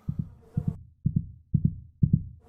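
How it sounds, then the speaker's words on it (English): A fast, thumping heartbeat sound effect of five evenly spaced double beats, each lub-dub pair deep, close and loud against silence. "Why's your heart beating so fast?"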